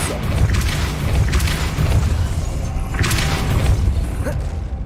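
A Depulso force spell is cast in Hogwarts Legacy, giving deep booming whooshes in a few swells over a constant rumbling game background.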